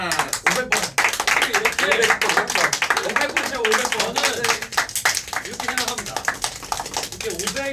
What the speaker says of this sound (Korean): 그리고 500일을 기념해가지고 박수 한번 칠까요?